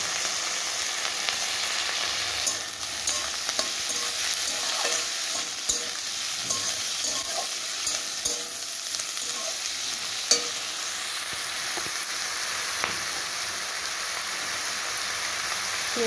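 Potato and eggplant frying in oil with onion, ginger and garlic, a steady close sizzle with scattered pops and stirring scrapes running throughout, no voices.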